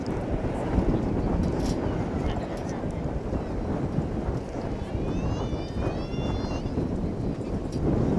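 Strong wind gusts across a microphone outdoors at Dallas/Fort Worth airport, a steady loud roar through the whole stretch with faint higher tones from distant aircraft.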